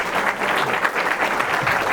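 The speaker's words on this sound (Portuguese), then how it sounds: "Vamos lá, Douglas, uma salva de palmas." Audience applause at a national mayors' forum on public management, a steady, dense clapping from a crowd filling the whole moment without letup.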